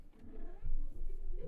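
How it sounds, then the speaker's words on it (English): A house cat meowing insistently for attention, a short drawn-out wavering cry close by, with a low rumbling background underneath and no speech. "the cat really wants our attention"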